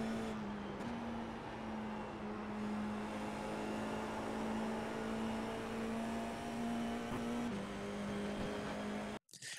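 An FIA F4 race car circles the Tsukuba circuit, its engine a steady, droning whine heard from on board that shifts pitch a few times as it carries speed down the main straight, then cuts out abruptly.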